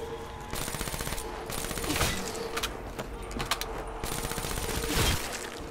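Sustained automatic gunfire in Call of Duty Black Ops III Zombies on the Zetsubou No Shima map, rapid continuous bursts with brief pauses, loud and dense.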